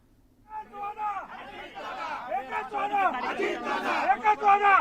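A crowd of party workers celebrating in Nashik, with many overlapping excited voices and cheering shouts building in loudness, close and lively.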